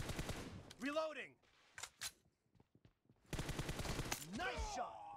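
Gunfire in PUBG Mobile, rapid automatic bursts in two clusters separated by a short lull, with a player speaking over the shots.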